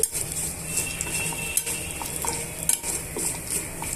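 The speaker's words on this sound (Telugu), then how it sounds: "ఇప్పుడు ఈ పోపునంతా కూడా బాగా వేయించేసుకుందాము" Tempering spices frying in a pan for an okra chutney: a steady, close sizzling hiss with the scrape and clink of a spoon stirring against metal, no voices.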